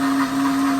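A Deluxe Cooking Blender blending hummus runs with a steady loud motor whine, a constant droning tone with churning texture and no pauses.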